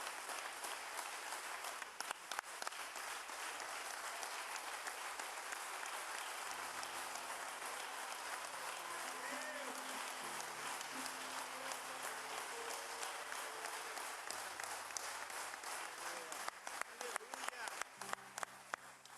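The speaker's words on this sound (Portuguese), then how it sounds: "Vamos aplaudir Jesus mais uma vez?" A church congregation applauds at a worship service in a long, steady, full-room burst of clapping, with music sounding underneath after the first few seconds.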